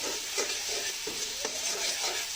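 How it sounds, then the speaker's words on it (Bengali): Spices with ground coriander and cumin, for a dried-fish dish, frying in a pan, giving a steady bright sizzle broken by soft scraping strokes of a spatula, close and moderately loud. "এবার ভালো করে কষায় নিলাম।"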